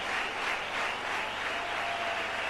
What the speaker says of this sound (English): You hear the applause, Jeff?